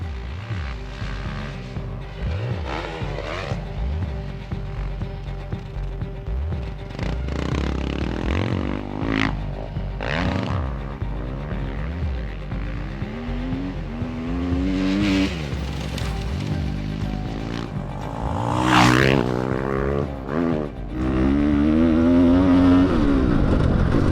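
An electric dirt bike lapping a dirt track, its motor whine rising and falling in repeated surges as it accelerates and slows through the course, steady and close with rushing background noise.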